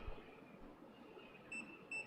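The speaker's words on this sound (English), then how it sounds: "Beep twice. Match it." A Steelmate child seat sensor alarm gives two short electronic beeps near the end, each a bright high tone, over a low background murmur.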